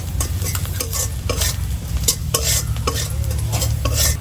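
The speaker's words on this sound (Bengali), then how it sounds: "পেঁয়াজটা একটু লাল করে ভাজে নিলাম।" Chopped onions fry in oil for a duck curry with potatoes, sizzling continuously while a utensil stirs and scrapes the pan in irregular bursts, close and loud with no talking.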